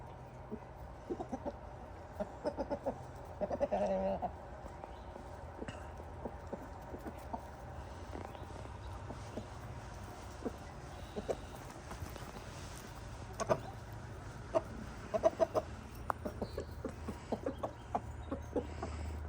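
Backyard chickens, including a hen, clucking softly and intermittently on a greening lawn, with scattered short calls and scratchy rustles over a steady low background hum.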